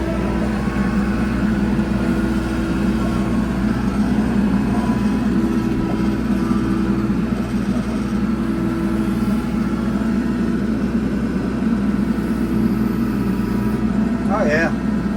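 A tractor engine drones loudly and steadily throughout while hydraulics lift a heavy equipment trailer, with a brief whine near the end.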